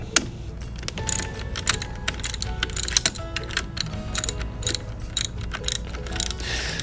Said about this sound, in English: I do have a 14mm wrench here